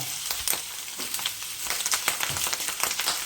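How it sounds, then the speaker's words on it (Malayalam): Clams sizzling and frying in hot coconut oil in a pan, a steady dense crackle with scattered pops and occasional stirring scrapes, close and continuous with no talk. "ഞാനിവിടെ കക്ക ആദ്യം ചേർക്കണമെന്ന് വെച്ചാൽ ഈ വെളിച്ചെണ്ണയിലൊന്ന് കക്ക നന്നായി മുരിഞ്ഞ് കിട്ടാൻ വേണ്ടിയിട്ടാണ്"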